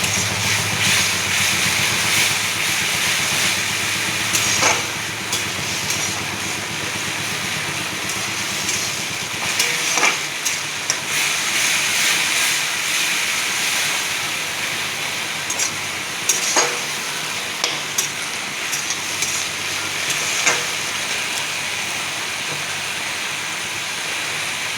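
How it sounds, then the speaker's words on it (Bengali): Pumpkin flowers fry in a pan for a poppy-seed dish, giving a steady, even crackle with a broad, hissing wash and occasional sharper pops, continuous and moderately loud throughout with no talking. "ভালো করে কুমড়ো ফুলটাকে ভেজে নিচ্ছি।"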